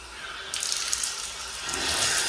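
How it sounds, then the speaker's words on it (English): Tap water runs steadily into a pool-party setting as a broad hiss that swells louder toward the end, close to the microphone with no talk over it. "Turning on the water."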